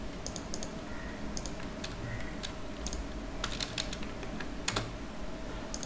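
Keys clatter on a computer keyboard as a web address for a Firebase web application is typed, with irregular bursts of quick clicks over a steady low room hum, close and moderately quiet.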